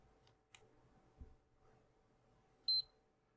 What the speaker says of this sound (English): And there's our beep.